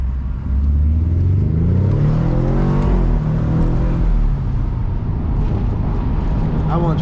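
A convertible car switched into sport mode accelerates, its engine note rising through the gears with a steady loud drone and a wind-filled open cabin, while a person talks over it.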